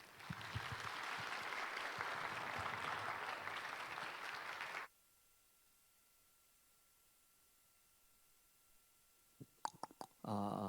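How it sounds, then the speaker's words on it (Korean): Church chapel congregation at a Methodist theological seminary gives sustained, dense applause welcoming a pastor, loud and steady for about five seconds before cutting to near silence, followed by a few sharp microphone taps. "저희들 한 마음으로 박수로 환영하겠습니다"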